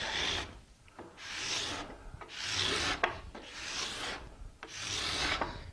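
A hand scraper drawn repeatedly across a wooden surface, about five long rasping strokes in a steady rhythm, close and fairly loud, with no voices.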